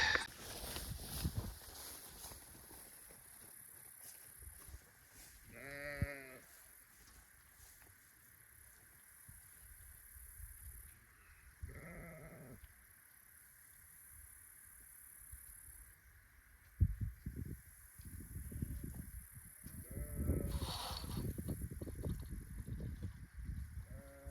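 Sheep on a farm give a few short, wavering bleats spaced apart, mid-distance over steady outdoor background noise, with some bumps and handling sounds around them.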